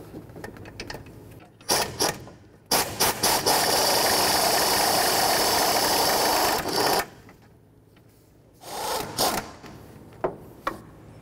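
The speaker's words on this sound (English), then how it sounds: "Now I'm just going to use a 13 millimeter socket and I'm going to remove the mounting nut on this side and then the one on the other side" A 13 mm socket wrench ratchets off the brake master cylinder mounting nut on a 2004–08 Ford F150: a sustained, loud mechanical whir for several seconds, bracketed by sharper clicks and clanks, with no talking.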